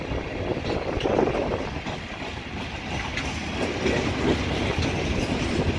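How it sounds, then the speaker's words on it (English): CSX freight train cars roll steadily past on the rails, a loud continuous rumble with faint clicking of wheels, including box cars, tankers, gondolas and covered hoppers, heard nearby with no talk. "got a Canadian National box car, originally Grand Trunk Western Railroad, and of course your tankers and your gondolas and your covered hoppers"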